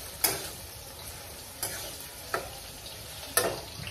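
Onions browning in a pan for a chicken dish, a continuous soft sizzle punctuated by four sharp stirring clinks of a spoon against the pan.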